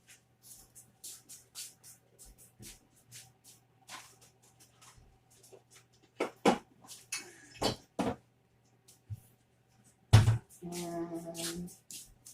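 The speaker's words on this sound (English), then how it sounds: "So 2/3 of a cup of sugar. And we're going to stir that together." Sugar is stirred into a chocolate pudding mixture, light scraping and clinking of a utensil against a bowl in scattered taps, then sharper clinks and a short rattle near the end, otherwise quiet.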